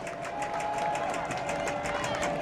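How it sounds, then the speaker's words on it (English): Crowd at a college football game between Santa Ana Dons and PCC Lancers roars with steady, dense cheering that holds throughout, loud and continuous with no pauses. "The crowd getting into it."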